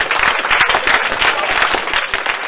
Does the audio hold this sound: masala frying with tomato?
no